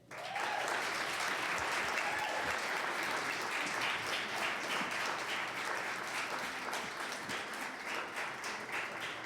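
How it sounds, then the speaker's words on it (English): A college lecture audience breaks into sustained applause, a dense wash of many hands clapping that stays loud and even throughout, with no voices over it. "Let's give her another round of applause"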